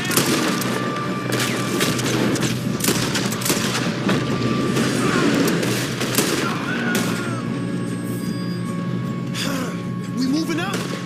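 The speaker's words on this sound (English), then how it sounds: "Why don't you shoot those bastards?" Gunfire from a train heist shootout in the video game Red Dead Redemption 2, a dense steady barrage of shots and booms under game music, with characters talking over the battle.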